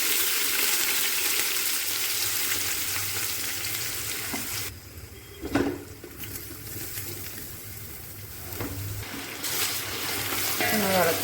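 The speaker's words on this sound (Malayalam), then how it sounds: "ഉള്ളി ഇട്ട് കൊടുക്കാം." Onions sizzling and being stirred in hot sunflower oil with cinnamon, cloves, cardamom and fennel for a prawn biryani, a steady close frying hiss broken by scraping stirs and a louder clatter midway.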